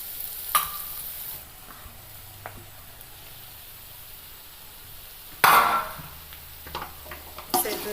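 Sliced onions and a pinch of turmeric stir-fried in a pan for raw banana podimas, with a few sharp spatula scrapes over a faint, steady sizzle.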